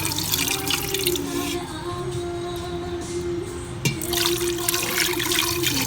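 Hot water poured into an Instant Pot for pork rice porridge, a steady pouring and splashing rush that runs close and loud throughout, dipping briefly in the middle before swelling again.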